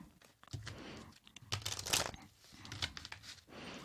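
Tarot cards shuffled in crisp papery riffling and crinkling bursts, a few quick shuffles close by, with brief rustling pauses between them.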